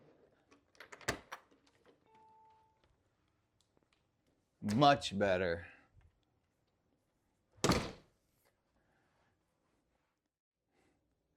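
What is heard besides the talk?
door swinging on a repaired hinge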